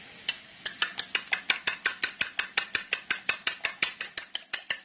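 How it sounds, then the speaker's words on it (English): A utensil rapidly stirs beaten eggs in a pan greased with bacon fat outdoors, with about twenty quick, regular scraping strokes close up and no voices. "Stir them up just a bit more"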